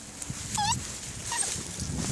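A puppy gives a couple of short, high whimpers over a low background rumble, close by and fairly quiet.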